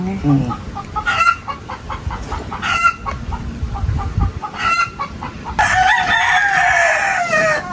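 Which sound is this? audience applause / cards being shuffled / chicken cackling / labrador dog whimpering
chicken cackling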